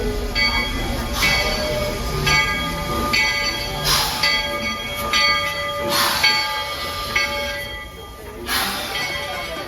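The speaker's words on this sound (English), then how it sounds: "we thought it best to take a trip on the Walt Disney World Railway to see its iconic sights" The Walt Disney World Railway train rolls steadily along, its wheels clattering in a continuous rumble with repeated squealing, hissing bursts; a faint voice talks underneath.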